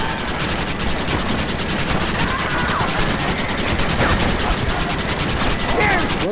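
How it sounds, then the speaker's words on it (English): Rapid gunfire in the Red Dead Redemption game, with dense, steady rattling bursts of shots running throughout at a loud level, and faint voices occasionally underneath. "Why are they all shooting at me?"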